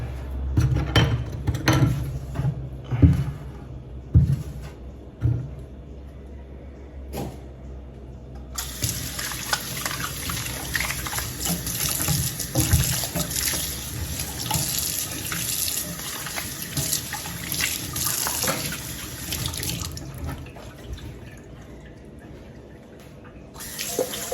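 Tap water runs steadily into a kitchen sink as bananas are washed under it, a continuous close splashing stream with handling clatter, the flow strengthening midway.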